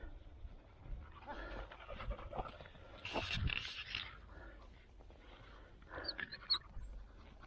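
Tired, thirsty hunting dogs on a hare hunt pant in rapid, rhythmic breaths close by, with rustling outdoor movement and a brief human voice between the panting bursts.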